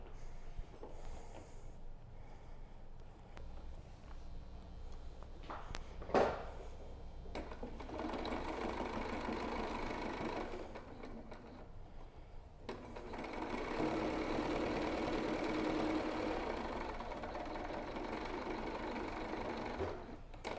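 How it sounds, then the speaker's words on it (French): A sewing machine stitches a 1 cm seam on a pleated fabric face mask, a steady close whirring hum running for long stretches with brief pauses and changes in speed. "vous allez venir faire une couture à 1 cm"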